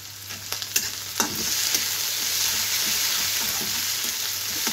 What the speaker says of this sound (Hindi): इसको अच्छे से चला लेंगे।